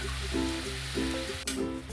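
Jaggery syrup for sweet rice dumplings bubbles and sizzles in a pan with a steady, close, continuous seething, heard alone.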